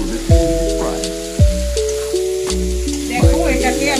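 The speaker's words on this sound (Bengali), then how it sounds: "এটাকে মানে মশলাগুলো একটু ভালো করে ফ্রাই করে নিতে হবে।" Spices frying in a pan as the base for a jackfruit and shrimp curry, a steady sizzle with a few sharp bursts of stirring, heard up close under tonal background music.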